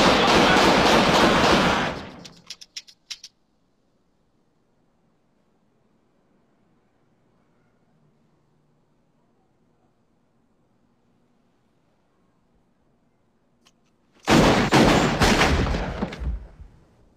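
Hand cannon gunshots in a movie scene: a loud dense burst of rapid fire, then long near-silence, then another heavy volley of shots.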